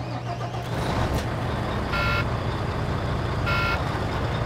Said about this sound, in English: and I'm starting the engine.